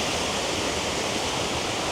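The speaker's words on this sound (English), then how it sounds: "Fake waterfall." Artificial waterfall at a Disney theme park, a steady broadband rush of falling water, close and continuous with no pauses.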